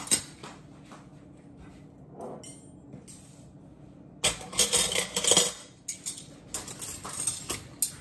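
Small mini wine glasses are handled and set down as they come out of a curio cabinet. Faint clinks come first, then a louder, busier stretch of glass clinking and rattling partway through. No one speaks.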